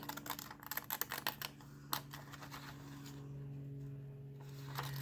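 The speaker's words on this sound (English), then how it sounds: "So we're just going to cut this one out this way." Small jagged-edge scissors cutting paper for a Christmas cone ornament: a quick cluster of crisp snipping clicks close by, then a pause and a couple more faint snips over a quiet steady hum.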